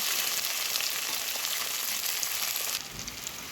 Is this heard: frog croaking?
no